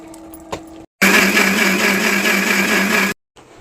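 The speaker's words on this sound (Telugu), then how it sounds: "ఇప్పుడు మిక్సీ పట్టేసుకుందాం." A mixer grinder whirs loudly for about two seconds as it blends fried vegetables into tomato chutney, a steady motor roar that starts and stops abruptly between quieter moments.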